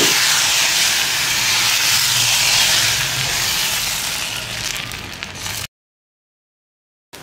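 Appam batter hits a hot pan and sizzles in a loud, broad hiss that holds steady, softens gradually, then cuts off abruptly into silence.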